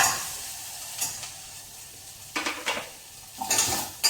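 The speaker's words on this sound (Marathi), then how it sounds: "कांदा अर्धा मिनिट परतवल्यानंतर गाजर घातलेला आहे आणि ते परतवून घेते." Onion and carrot cubes sauté in a pan with a soft background sizzle. A spoon stirs and scrapes against the pan in several short bursts.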